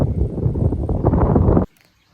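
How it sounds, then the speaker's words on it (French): Wind gusts by the Lac du Salagou buffet the microphone in a loud, rumbling rush for about a second and a half, then cut off abruptly into near silence. "D'ailleurs, vous devez l'entendre qu'il y a du vent."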